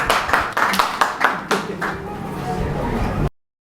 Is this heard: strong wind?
no